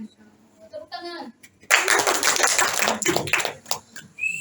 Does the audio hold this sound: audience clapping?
yes